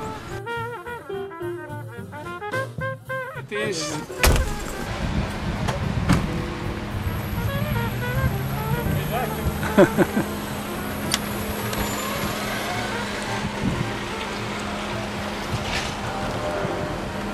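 An electric Citroën Dyane carrying two people accelerates in third gear, giving a steady motor whine with rising tones and road and wind rumble that build after a brief stretch of talk at the start.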